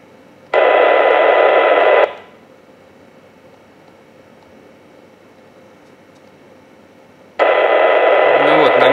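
Kenwood NX-1200 handheld radio with its squelch opening into loud hiss: two bursts of steady static noise, one about 1.5 seconds and another starting near the end, separated by quiet.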